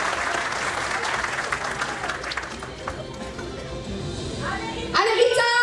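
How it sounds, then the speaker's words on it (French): Audience applause greets a child performer at an end-of-year school show, a lively burst of clapping that thins out gradually, before a voice starts speaking at the end. "Applaudissez-la, s'il vous plaît."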